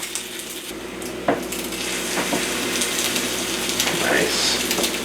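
Stuffed Twinkies frying in a pan, a steady loud hiss of hot oil with a few faint clinks and scrapes of a utensil, close by.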